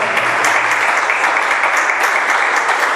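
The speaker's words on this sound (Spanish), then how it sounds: "Un aplauso al Señor." A church congregation applauds loudly and continuously during a Spanish-language worship service, thick, even clapping filling the room without a break for three seconds.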